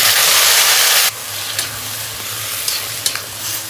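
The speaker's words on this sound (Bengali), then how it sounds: "পেঁয়াজ আর রসুন তেলে দেব।" Onion, garlic and cumin frying in hot oil in a home kitchen, beginning with a loud, close sizzle that drops to a softer hiss, with a few clinks of stirring.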